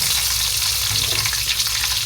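Thinly sliced food fries in hot oil for a crispy result, a loud, close, continuous sizzle with dense crackling that holds steady and never lets up.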